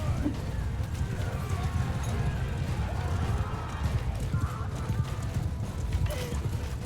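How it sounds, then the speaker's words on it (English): Steady rhythmic hoofbeats of a galloping horse in Mount & Blade II: Bannerlord over a constant rumbling game soundscape, with a voice talking throughout. "I can just run them over with my horse."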